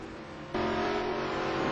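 A race car lapping Magny-Cours in a racing video game, its engine droning steadily, then jumping louder and brighter midway as it accelerates, sustained and close.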